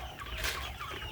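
Large chickens cluck in an outdoor coop at feeding time, making a faint, steady, busy murmur of fowl with no one talking.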